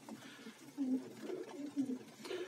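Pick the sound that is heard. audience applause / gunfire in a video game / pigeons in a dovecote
pigeons in a dovecote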